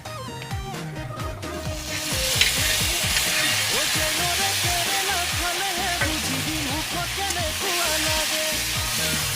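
Fish pieces dropped into hot oil for an Assamese thali set up a loud, steady sizzle that holds dense and even, with stirring clatter near the start and an occasional sharp crackle.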